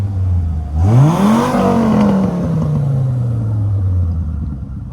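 A Dodge Viper fitted with a new exhaust blips its engine in a loud, close rev that climbs sharply and then slowly winds back down to a deep, steady idle rumble.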